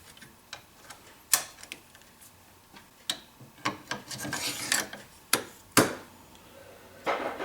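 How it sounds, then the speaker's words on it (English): A no-go headspace gauge is checked in an AR-15, heard as scattered sharp metallic clicks and taps with brief scraping and rubbing sounds at close range, irregularly spaced. "And now we'll check it with our no-go gauge."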